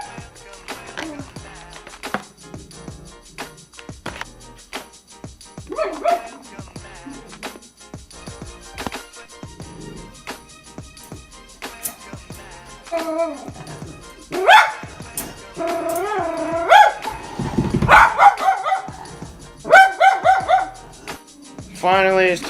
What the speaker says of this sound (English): This dog is still barking.